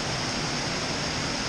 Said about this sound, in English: looking at this waterfall. It's really pretty.